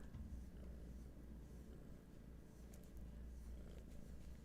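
A cat purrs softly and close, a faint, continuous low rumble with no voices over it.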